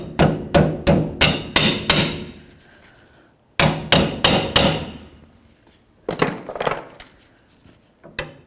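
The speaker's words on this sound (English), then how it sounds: "I'm going to use a hammer, bonk up against this area here, and try to get the insulator out." A hammer repeatedly strikes a leaf spring insulator on a 1994-2004 Chevy S-10, giving loud, sharp knocks in rapid bursts of four to six blows separated by brief pauses. Quieter taps come near the end.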